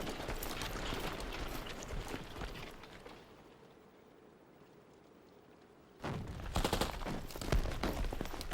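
Machine gun fire in an animated war film set in muddy trenches: dense crackling bursts for about three seconds, a lull of low rumble, then loud rapid fire returning.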